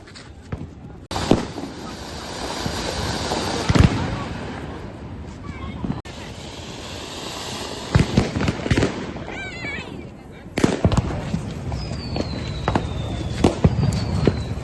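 Diwali firecrackers and fountain fireworks go off nearby, sharp cracks and bangs scattered across the scene with a hissing burst and a whistling streak, while several people talk and call out throughout.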